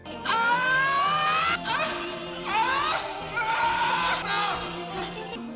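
A person screams in a series of long, loud, anguished wails, each cry rising and falling, close and unbroken by talk.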